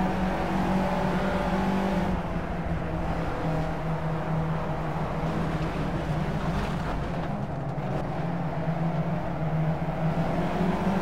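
Race car engine in the Project Cars driving game hums at high revs during a career race, a steady drone with faint shifts and changes in pitch, fairly quiet, no voices heard.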